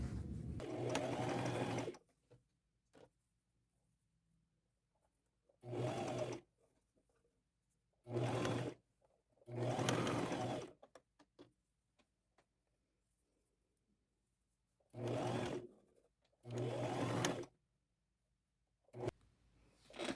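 A sewing machine zigzag-stitching lace onto a top runs in short bursts of steady mechanical whirring, each lasting one to two seconds, separated by long silent pauses, close and moderately loud.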